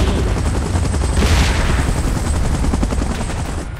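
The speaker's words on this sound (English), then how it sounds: "Chopper in position." Helicopter rotor and heavy gunfire in the video game PUBG, a dense, loud, continuous roar with rapid bursts of shots throughout, no pause.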